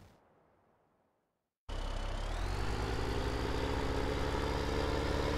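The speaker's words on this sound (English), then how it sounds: "Let's bring the tractor to the combine." A tractor engine in Farming Simulator 17 starts abruptly after a near-silent moment, then holds a steady loud droning rumble as the tractor drives toward a combine.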